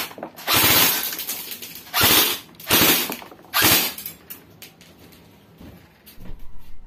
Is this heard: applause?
no